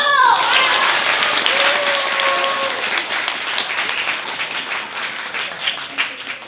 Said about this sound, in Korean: 그저 저희는 박수와 환호성으로 응원해주면 되는 겁니다